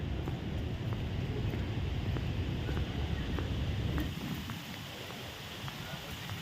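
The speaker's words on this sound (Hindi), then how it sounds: "ठंडी ठंडी हवा है, तेज हवा है।" A strong, cool wind buffets the microphone with a loud, steady rumble that eases slightly toward the end, with no one speaking over it.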